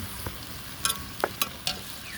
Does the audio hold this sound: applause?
no